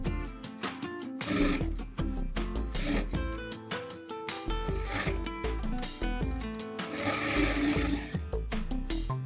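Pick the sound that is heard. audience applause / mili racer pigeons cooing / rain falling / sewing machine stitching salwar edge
sewing machine stitching salwar edge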